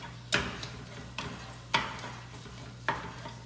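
Ground meat stir-frying in a wok is broken apart with two spatulas, giving four sharp, close scraping clacks spaced about a second apart over a faint, steady sizzle.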